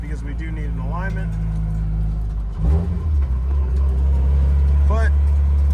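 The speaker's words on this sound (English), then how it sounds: "I'm just super happy to be driving this car." A Scion FR-S with newly fitted dual calipers and an off-centre steering wheel drives along, its engine a steady low rumble that swells slightly, while someone talks over it from inside the car.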